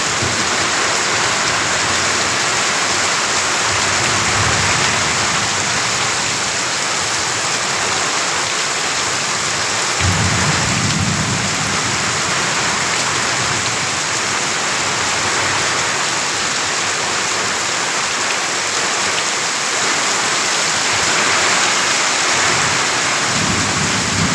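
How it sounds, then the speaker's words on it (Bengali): A dense, steady downpour in Mohanganj, Netrokona hisses continuously for a long stretch, with occasional low thunder rumbles beneath the constant rain. "বিশাল বৃষ্টি দেখেন"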